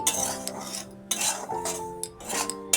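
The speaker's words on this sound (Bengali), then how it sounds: "সুজিটা এই যে হালকা করে একটু ভেজে নিচ্ছি" Semolina is dry-fried lightly in a pan and stirred, so a metal spoon clatters and rings against the pan in uneven bursts, close and fairly loud, with only a faint background hiss.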